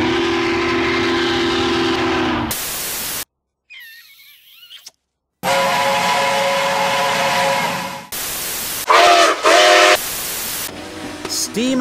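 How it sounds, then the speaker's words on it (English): Southern Pacific 4449, a steam locomotive, blows its chime whistle in long, loud multi-tone blasts, with short pauses and a brief quieter stretch between them. "Steam engines have whistles that sound like this."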